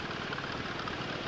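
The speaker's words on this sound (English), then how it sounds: "The machine had its own petrol-driven engine" A flax puller machine runs on its own petrol-driven engine in an Irish flax field, giving a steady, close, throbbing engine rumble with an even pulsing rhythm throughout.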